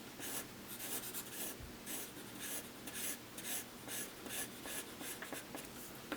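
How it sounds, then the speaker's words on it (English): A pencil scratches across paper while shading a shadow, rapid back-and-forth strokes that rasp steadily and close, with no talking heard. "So I'm gonna draw some shadow in front of him."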